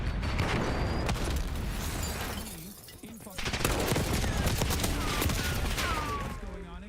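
Archangel scorestreak firing in Black Ops 6, a dense, loud barrage of rapid gunfire and blasts that runs almost without pause, briefly thins for a moment, then returns, with game voices faintly mixed in.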